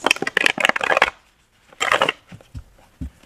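Tarot cards being shuffled by hand before a reading: two bursts of crisp riffling and flicking, with a short pause between, followed by a few soft taps.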